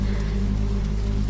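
Steady rain falling, used as a horror-story sound effect: a dense, continuous hiss of rainfall with a low rumbling bed, even and loud throughout with no voices.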